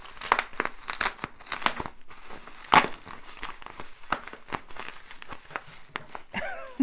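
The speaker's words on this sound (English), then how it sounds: "So I've unwrapped it. I've unwrapped the two ends" A wrapped beauty product package being unwrapped at both ends, with close, continuous crinkling and tearing of plastic wrap in bursts of sharp rustles.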